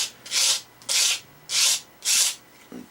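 A knife blade being sharpened and reprofiled on a stone gives four even, rhythmic rasping strokes, each about half a second long and close to the mic, with one faint scrape at the end.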